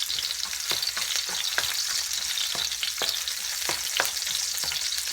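Chopped red onion sizzles steadily in a hot pan, with repeated scraping stirs at a loose, irregular rhythm over continuous close frying noise and no voices.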